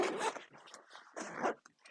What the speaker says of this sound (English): The bag zips.